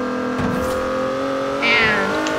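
A limousine engine in Forza Horizon 4 hums at a steady drone, then rises briefly as it revs, with background game audio and no voices.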